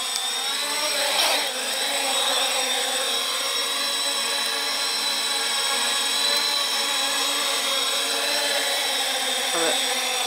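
X525 quadcopter hovering steadily on its first flight, a loud continuous high-pitched whine of spinning rotors that holds even with slight pitch shifts, with a brief thump early on.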